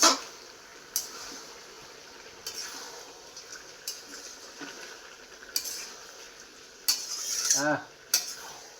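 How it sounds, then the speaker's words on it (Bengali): Chicken with garlic and spices is stir-fried in a pan. A spatula scrapes and clinks against the metal in scattered strokes over a faint, steady sizzle. "এই গ্রানটা দিয়ে কিছুক্ষণ কষে নিতে হবে।"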